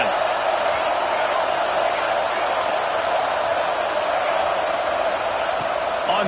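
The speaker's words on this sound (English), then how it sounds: "Listen to this crowd just shaking the girders of this place" Stadium crowd at an American football game roaring loudly and continuously, a dense, even wall of cheering that holds throughout with no words spoken.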